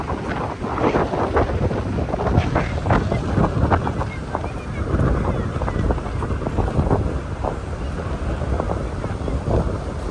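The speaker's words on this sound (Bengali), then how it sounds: "প্রচন্ড বাতাস আজকে" Strong wind buffets the microphone in a continuous, loud roar at a waterside outing, with gusting rumble throughout and the sense of water and boats close by.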